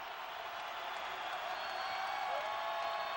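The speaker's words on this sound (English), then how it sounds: "Crowd roaring." Basketball arena crowd at a Huskies versus Wildcats game, a steady broad roar of cheering and applause that holds at a fairly even level throughout, with a faint whistle-like tone gliding through it.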